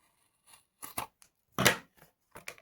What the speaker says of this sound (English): Oh, and then I'm going to cut this off at the bottom